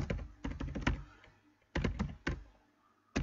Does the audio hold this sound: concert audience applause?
no